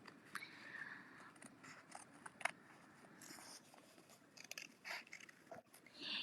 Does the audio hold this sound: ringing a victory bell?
no